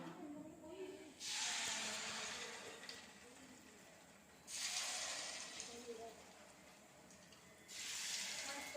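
Bonda balls fry in hot oil, giving loud hissing sizzles in three long surges with quieter bubbling between them, close up and with no talking.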